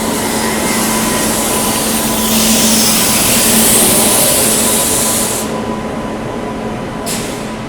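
Bhubaneswar–Pune SF Express, led by a WAP7 electric locomotive, rumbling steadily with a broad, continuous hiss and hum at close range, swelling in the middle and easing off, with no voices.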